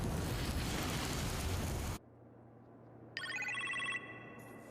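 In the Iron Man VR video game, a phone rings with a bright electronic trill after a loud rushing noise cuts out, followed by a quieter second ring.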